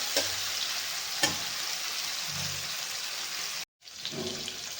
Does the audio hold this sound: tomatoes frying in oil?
yes